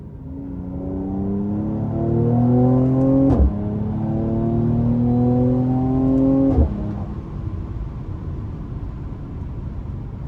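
A 2019 Mercedes C43 AMG revs hard as it accelerates, its engine note climbing through two quick gear shifts before settling into a steady cruise, heard loud and close from inside the car.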